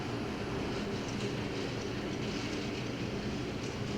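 Nickel Plate model railroad locomotive running along layout track, a steady faint rolling whir and rattle that stays even throughout, without any voices.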